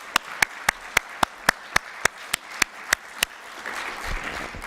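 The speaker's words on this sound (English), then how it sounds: "One more round of applause for Eliza." Evenly spaced claps ring out clearly at a symposium session, about a dozen sharp strokes in steady rhythm that stop, leaving faint room noise and a soft murmur.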